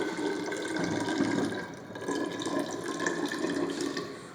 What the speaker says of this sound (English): then put water in a graduated cylinder